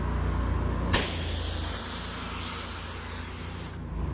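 Roof cleaning mix sprayed from a pressurized nozzle onto a hand, one steady loud hiss lasting close to three seconds that starts and stops abruptly, close up with no talk.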